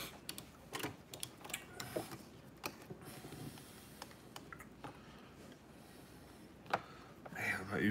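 A Brother PQ1500SL sewing machine stitches a stadium game day bag with a 3.5 millimeter stitch, giving a busy, uneven mechanical clatter with sharp ticks and fabric handling noises, close and moderately loud throughout.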